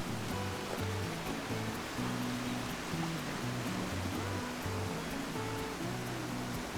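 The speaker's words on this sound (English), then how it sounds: "Look at the cascading water." Water cascades down a creek near Bridal Falls, a steady, dense rushing and splashing that continues without break, with a low intermittent tonal hum beneath it.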